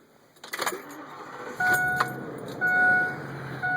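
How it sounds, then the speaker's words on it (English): A Coachmen Freelander motorhome's engine is started from inside the cab. Clicks and a short crank come first, then the engine catches into a steady hum while thin chime tones sound over it. "I'm going to start the engine here."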